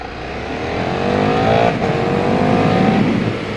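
A KTM Super Duke 1390 EVO R V-twin motorcycle engine runs loud and close while riding, a steady droning roar that rises in pitch with a brief dip midway before pulling on again.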